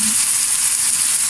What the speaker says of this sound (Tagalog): Lutuin na natin yung ating tomato